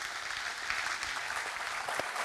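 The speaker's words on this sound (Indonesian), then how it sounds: "bisa kita minta tepuk tangan dulu untuk semua narasumber kita pada malam hari ini" A studio audience at an evening political talk show applauds the guests, a moderate, steady patter of clapping heard alone without speech.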